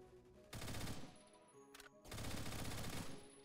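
Two loud bursts of automatic gunfire ring out in the Roblox shooter Phantom Forces, each lasting about a second and a half, separated by a brief quieter gap, with no talking.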